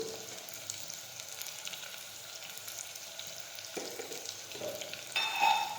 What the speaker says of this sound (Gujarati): જીરું નાખીશું હળદર નાખીશું મીઠું નાખીશું